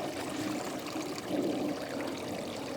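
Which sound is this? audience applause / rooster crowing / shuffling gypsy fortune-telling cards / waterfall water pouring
waterfall water pouring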